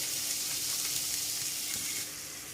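Ground beef and ground pork sizzle in a pot for chili, a steady, close frying hiss that softens slightly near the end.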